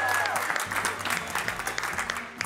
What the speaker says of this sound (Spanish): Aplaudan lo que se lo merece.